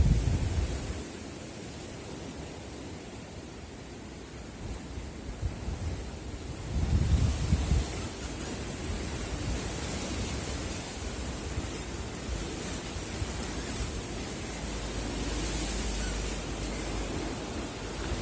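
Violent wind gusting to 94 km/h in Nîmes on a December morning roars steadily against the microphone, swelling into a stronger gust midway, with no voices.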